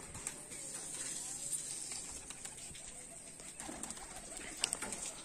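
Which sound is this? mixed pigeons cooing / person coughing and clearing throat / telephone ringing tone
mixed pigeons cooing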